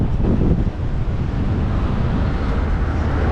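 Strong winter wind buffets the microphone high up on a Starflyer swing ride at Hyde Park Winter Wonderland, with a loud, steady low roar and rumble, constant throughout with slight surges.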